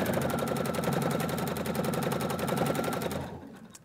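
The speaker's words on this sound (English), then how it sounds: "Every time I move the machine and I put my foot on the pedal, the stitch is going to be selected by me" A Husqvarna Viking sewing machine doing free-motion stitching for a landscape quilt, a fast, even, rapid mechanical chatter of the needle running close and loud, then slowing and stopping near the end.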